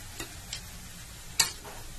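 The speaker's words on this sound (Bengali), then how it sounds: "পেঁয়াজ দিয়ে দিলাম, দিয়ে ভালো করে এটাকে সাঁতলে নিতে হবে।" Onions sauté in a pan over low heat with a faint, soft sizzle, broken by a few light stirring scrapes and clicks.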